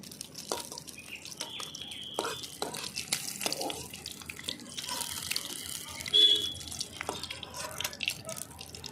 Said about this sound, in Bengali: হালকা করে ভেজে আমি আবার ধুয়ে নিচ্ছি সব